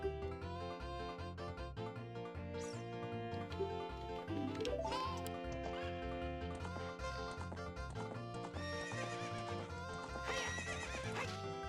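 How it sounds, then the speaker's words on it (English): A horse in the video game The Legend of Zelda: Ocarina of Time neighs and whinnies in a rising cry over steady, rhythmic game music with clip-clopping hooves, and no one speaks. "Ganon knows Waluigi races top-notch horses."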